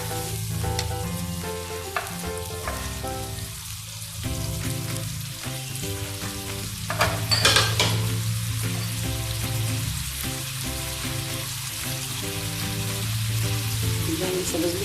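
Large red chillies and spices fry in hot oil for a vegetable biryani masala. The sizzle is loud, steady and close, with occasional stirring scrapes and no talk.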